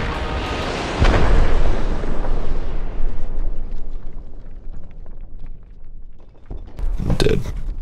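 A rocket launcher blast in the survival game Rust, one loud close explosion with a long rumbling decay, then a second sharp burst a few seconds later.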